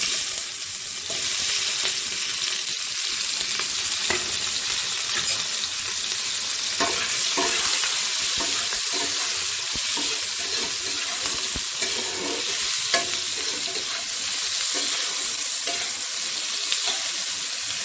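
Onions frying in hot oil with bay leaf and whole cumin seeds, a loud steady sizzle with bursts of crackle and occasional stirring scrapes, close and unbroken with no talk.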